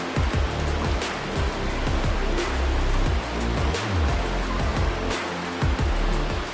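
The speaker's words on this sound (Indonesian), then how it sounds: "dari bawah batu keluar airnya tuh guys" Water pours out from under a rock in the Gayo highlands with a loud, steady rushing roar that lasts throughout, broken by no pauses or voices.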